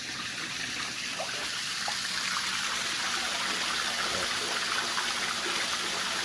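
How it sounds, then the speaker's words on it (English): Water gushing steadily through a homemade gold sluice, slowed before running over the riffle system and draining into a tote; a continuous, fairly close rushing wash with no talk. "Slows down the water a little bit, and then that comes into the ripple system here,"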